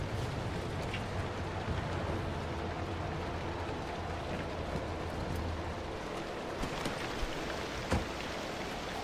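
Steady rain from the Pacific Drive video game pours as a dense, even hiss, with occasional sharper drips or knocks breaking through near the end.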